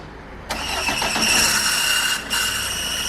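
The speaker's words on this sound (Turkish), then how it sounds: "Aracımızı bir çalıştıralım ve sesini duyalım." A Fiat Doblo 1.3 Multijet diesel cranks and fires, then settles into a loud, steady idle with a brief dip before running on, heard up close.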